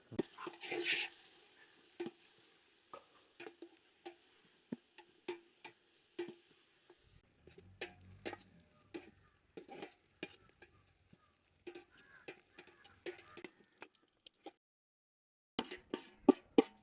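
Ghee sizzles in a pan as grated coconut and green chilies are stirred in for vegetable biryani, with close, scattered scraping taps of the spoon and soft frying crackle.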